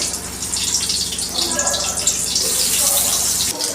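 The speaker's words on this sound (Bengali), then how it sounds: "তেল গরম হয়ে গেছে এখন আমি বেগুনগুলি এক এক করে দিয়ে দেব" Eggplant slices sizzle in hot oil, a dense, steady frying hiss heard close up throughout with no pauses.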